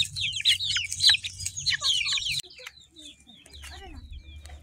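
Chickens cluck and squawk at a chicken market, a loud close flurry of calls that drops abruptly and continues as fainter, scattered clucks over a low background hum.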